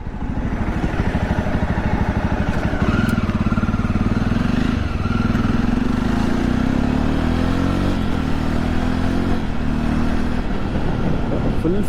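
A Jawa motorcycle idles steadily up close after a rusted silencer was replaced with a new one, its engine giving a loud, even, throbbing beat that holds throughout with a slight rise in revs.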